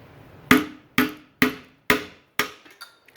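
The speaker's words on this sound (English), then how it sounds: "we're going to use my alternate removal tool, which is basically a screwdriver and a hammer, and we're going to break that shifter out of there" Hammer blows drive a screwdriver to break the shift handle out of a Johnson Evinrude 6 HP outboard: five sharp, evenly spaced metal strikes, close and loud, then a few lighter taps.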